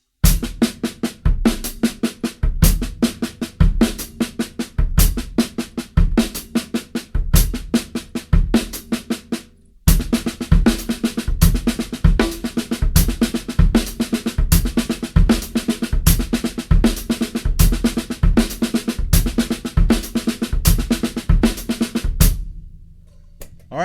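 Drum kit groove with the left hand on the hi-hat and a double kick drum. Tight, repeating hits at a steady pulse play alone and loud for over twenty seconds, broken only by a brief pause midway.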